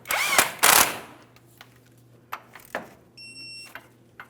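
A tie rod end mounting nut on a 2007-2014 GMC Sierra 2500 HD steering knuckle is tightened, with two loud, short bursts of tool noise up front, then scattered sharp metallic clicks and a brief steady electronic beep.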